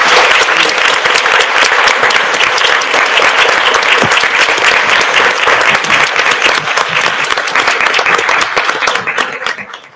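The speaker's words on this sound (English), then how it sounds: "Let's give a round of applause" A council meeting audience applauds during a Women's History Month celebration, loud sustained clapping from a large crowd that holds steady for about nine seconds before tapering off at the end.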